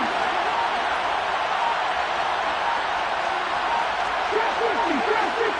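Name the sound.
football stadium crowd getting loud before a big third down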